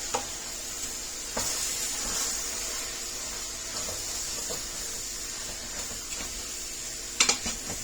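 Ground beef stirred in a pan, a soft continuous sizzle with scraping spatula strokes and a few sharp clinks near the end, heard fairly close and steady throughout.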